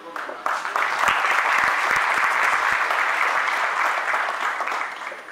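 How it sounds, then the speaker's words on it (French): Sustained audience applause fills a conference hall, a dense steady wash of many hands clapping close and loud from start to finish with no talk over it. "On va l'applaudir."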